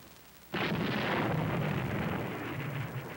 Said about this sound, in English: The officers and men of the ship man the rail in whites as the 5-inch guns fire the presidential salute.